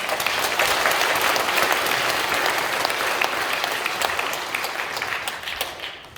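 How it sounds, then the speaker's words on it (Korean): A congregation at a joint Easter service gives a round of applause to the Lord, a loud, full wash of many hands clapping that swells early, holds steady, then tapers off near the end. "우리 다시 한번 우리 주님께 영광의 박수 올리겠습니다"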